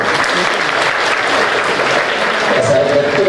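A crowd claps continuously at a Sai Baba temple anniversary celebration, a loud, dense applause that carries steadily throughout.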